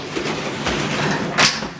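An elevator door in a luxury waterfront house in Golden Beach, Florida, slides shut in one brief rumbling sweep that ends with a sharp close near the end, loud and near, with no talk.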